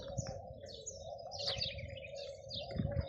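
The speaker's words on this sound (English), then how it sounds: "Now You look at the birds. They are happy in the trees." Small birds chirp and tweet in trees beside a lake with flamingos and swans, bright calls scattered over a steady tonal hum and low rumble, with a few louder coos and chirps near the end.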